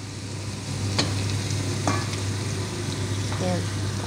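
Creamy spinach chicken stew being stirred in a pan, a constant soft sizzle with several scraping strokes of a spoon, heard close.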